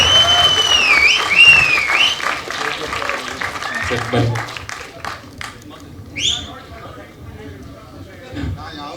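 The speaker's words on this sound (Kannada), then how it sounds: "ಸ್ವಲ್ಪ ಚಪ್ಪಾಳೆ ಬರಲಿ" Applause with whistling from the audience at a press meet for the Kannada film Powder, swelling and fading under an announcer's voice on a PA.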